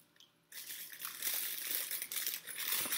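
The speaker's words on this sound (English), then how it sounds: "So I'm tucking the cellophane into the box" Cellophane crinkling and crackling as it is tucked into a box for a boxed flower bouquet, starting suddenly after a quiet moment and continuing as dense close-up rustling with no talk.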